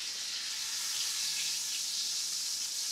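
Ribeye steak fat and edge searing in a hot pan, a continuous bright sizzling hiss, close and steady, with no talking.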